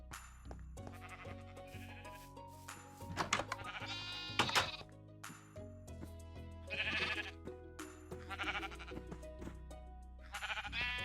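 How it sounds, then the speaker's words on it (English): Repeated bleats from sheep in the Minecraft video game, several short calls spread across the stretch over quiet in-game background tones, fairly close and moderately loud. "I need to get this yellow sheep."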